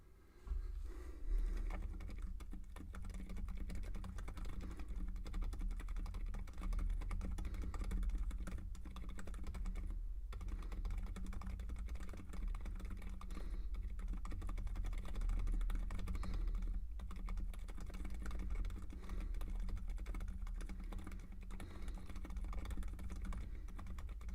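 Steady typing on a computer keyboard during a typing test, a dense continuous patter of key presses held at an even level for the whole stretch with no one talking.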